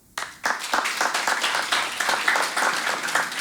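A stand-up comedy crowd at a Ukrainian-language show breaks into applause, starting abruptly after a moment of quiet and then holding as a full, steady wash of many clapping hands.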